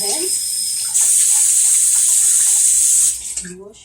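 Tap water runs steadily as hands are washed under it in a home kitchen, a bright continuous hiss that swells louder after the first second, then cuts off near the end as a voice starts speaking.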